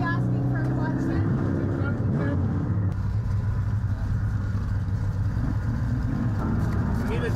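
A car engine runs with a steady low rumble, already idling after a clutch repair, close and constant throughout, with people talking over it.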